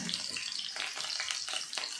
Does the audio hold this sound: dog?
no